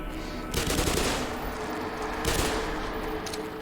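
Loud, sustained automatic gunfire from the first-person shooter Black Mesa: rapid bursts of rattling shots that swell twice over a dense game soundscape, with no voice over them.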